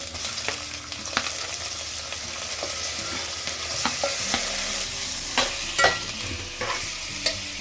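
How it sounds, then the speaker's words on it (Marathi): Onion and mushi frying together in a pan, a steady sizzle with repeated scrapes and knocks of a spoon stirring through the mix, close and continuous with no talk. "आता आपला कांदा थोडा नरम झाला ना, आपण आता ही मुशी त्यात घालून घेऊया"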